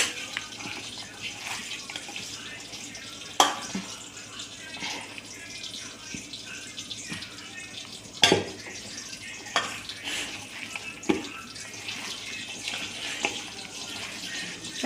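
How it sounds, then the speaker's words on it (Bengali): Hands squish and knead a wet spice paste for Bengali fish paturi in a village kitchen, a soft moist squelching with a few sharp clinks of a bowl. "মশলাটাকে ভালো করে মাখিয়ে নেব।"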